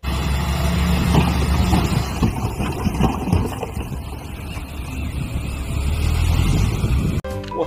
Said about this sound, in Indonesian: di sini ada mobil dump pasir